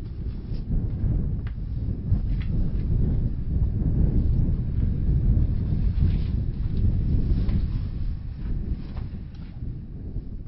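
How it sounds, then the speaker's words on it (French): Wind gusting steadily through the stone galleries of a fortified granary in the Atlas mountains, a continuous low roar that swells and eases over the whole stretch with no voices. "300 cases réparties dans 3 galeries, où le vent n'arrête jamais de chanter."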